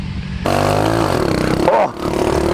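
A Honda CT70 mini bike with a bit of suspension revs loudly and close by as it rides over a dirt jump in third gear, its engine pitch climbing steadily before a brief clatter and dip on landing.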